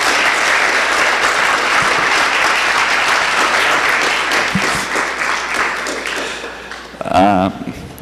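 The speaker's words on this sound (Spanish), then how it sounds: "Vamos a darle un aplauso al Señor por la vida del pastor Mu." A church congregation applauds loudly and steadily, the dense clapping thinning toward the end as a voice briefly breaks in near the close.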